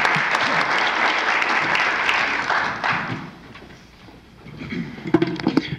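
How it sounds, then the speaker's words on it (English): An audience at a city forum applauds as a speaker is introduced, loud dense clapping for about three seconds that fades out, followed by a few thumps and handling noises. "round of applause for Chris"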